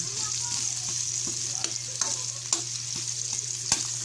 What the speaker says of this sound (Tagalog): Ating muna iprito-prito, mga kakusin, ng mga 5 minutes.